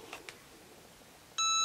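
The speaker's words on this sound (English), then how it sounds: "Then once it's done, you can hear it beep" Electronic beep from a heat press signalling the end of its timed pressing cycle while crafting a rag wreath, a sustained loud tone arriving near the end after a short quiet stretch with faint handling clicks.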